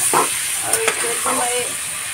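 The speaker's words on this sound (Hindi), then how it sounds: "मैं करीब भून देती हूँ अच्छे से।" One kilogram of cleaned mutton frying in a pot for a Mughlai mutton korma: a steady, loud sizzle and hiss close by, with a few brief stirring scrapes and no clear talk.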